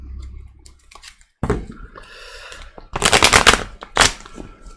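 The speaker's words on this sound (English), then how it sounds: "Shuffle again." Tarot cards shuffled by hand in bursts of crisp riffling and slapping, separated by brief quiet gaps, with a strong flurry of riffles near the end.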